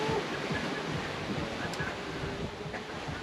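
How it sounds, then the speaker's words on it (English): Ocean waves and rushing water around a sailboat on a rough Pacific crossing, a constant broad wash mixed with wind noise, with faint voices and small clicks beneath it. "Wow, look at this wave."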